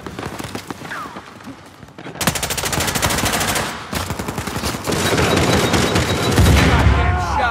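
Dense automatic gunfire from an Uncharted 4 multiplayer match, loud rapid bursts and booms filling the mix almost continuously, with brief player shouting in the background.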